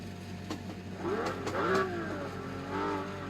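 A car engine on a driving track revs and shifts down from fifth to third gear, rising and falling engine whines with a couple of blips, moderately close.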